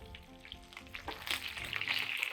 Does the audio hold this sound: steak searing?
yes